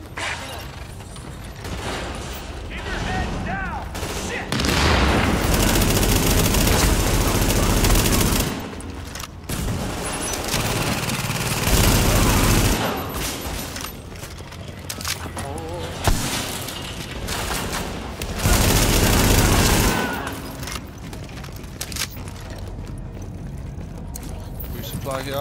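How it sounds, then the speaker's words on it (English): Heavy gunfire during a firefight in The Division video game, with dense bursts of automatic weapons and impacts in repeated loud waves, mixed with game sounds and voices. "Heavy fire!"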